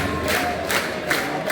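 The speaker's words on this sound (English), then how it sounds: "The Bordeaux lads are still cheering even though they're 2-0 down" Bordeaux supporters in a rain-soaked football stadium keep up loud, surging crowd cheering and chanting, rising and falling in waves without pause.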